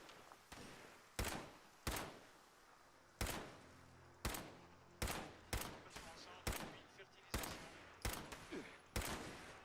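Repeated gunfire in the Fallout 76 video game: about a dozen loud, sharp shots at uneven intervals across the span, each with a short decaying tail, over a low game background.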